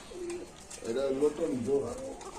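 Pigeons coo at a busy Bangladeshi pigeon market, a close series of low, rolling coos that rise and fall over about two seconds amid faint crowd noise.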